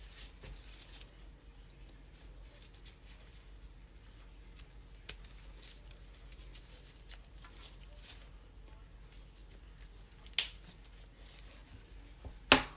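Scissors cut a rubber band off a coffee filter at a craft table. Scattered faint snips and clicks sit over quiet room tone, and a few sharper cuts come near the end.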